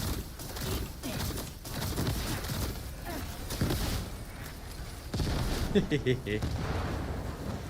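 Gunfire rattles as a specialized Vulgus aircraft is shot down in the shooter game The First Descendant. Dense, steady shots and booms sit in a busy game mix, with a louder burst of impacts near the end.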